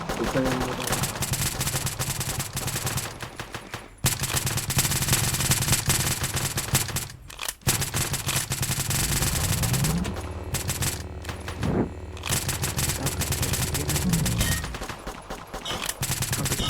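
Dense machine-gun fire rattles almost without pause in a shooting video game, loud and close, with brief gaps and scattered shots near the end, while people talk now and then beneath it.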